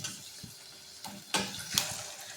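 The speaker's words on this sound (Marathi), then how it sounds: "आपण आता तेलात सोडूया।" Sabudana vada, sago fritters, slipped into hot oil in a pan: a steady faint sizzle with a few soft utensil clinks and two sharper splashy bursts as pieces enter the oil.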